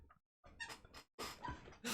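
A dog chews a squeaky toy whose squeaker is partly broken, giving a quick run of short, high squeaks in uneven bursts, close and fairly loud, separated by brief silent gaps, with no talking.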